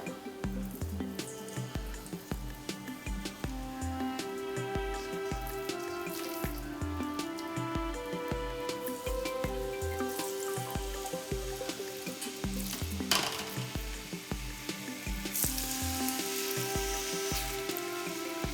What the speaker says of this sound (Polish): Smażymy mięso z obu stron, tak po około 3 minutki.